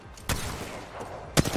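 Gunfire in the Apex Legends video game. Two short, sharp bursts of shots about a second apart ring out near and loud over a quiet background, with no talking.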